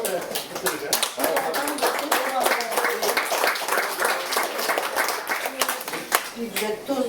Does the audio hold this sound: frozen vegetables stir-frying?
no